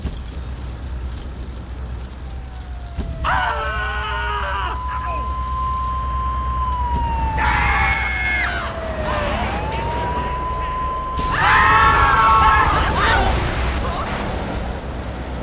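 Police siren in the GTA III video game, a wailing tone that sweeps up and down repeatedly, with voices talking over it in short bursts and steady game noise underneath.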